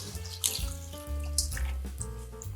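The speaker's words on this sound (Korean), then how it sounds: "물을 살짝 위에 좀 뿌려줍니다." Water splashes and trickles from a tap-like pour over salt in a pickling container for dongchimi radish, a continuous close running sound with small drips and clatter, no speech.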